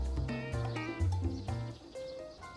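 A black goat that roams freely over a mountainside bleats several times in quick succession, wavering, nasal cries at close range with short gaps between them and no voices.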